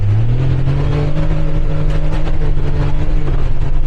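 A 2026 CFMoto Highland XL off-road vehicle's engine roars loud and close, holding a strong, steady droning pitch as it accelerates hard, with no talking.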